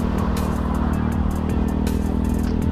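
A Honda Beat FI scooter's small engine drones steadily and close, its pitch shifting slightly under load as it pulls uphill, with faint rattling clicks throughout.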